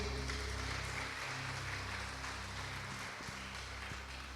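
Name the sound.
church congregation applauding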